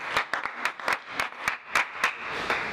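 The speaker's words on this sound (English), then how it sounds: "Give him a round of applause for the final winner." A small group claps for a raffle winner at a live fitness event, sparse and uneven with about ten distinct claps that come out one by one instead of as a full ovation.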